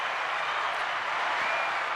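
Steady, dense audience applause for Dallas Cowboys quarterback Dak Prescott after a game against New England, a continuous even wash of clapping with no voices over it.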